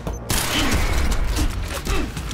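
Rapid gunfire in the video game Quantum Break, a dense sustained barrage of shots close and loud, with a voice briefly talking over it.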